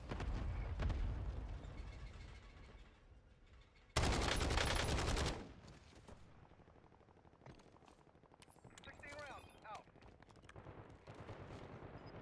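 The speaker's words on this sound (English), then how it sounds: "Love the sound of the ABR." Gunfire in the video game Warzone, including ABR rifle shots: rapid bursts of shots and a loud sustained burst of fire, followed by quieter game ambience, scattered distant shots and faint electronic effects.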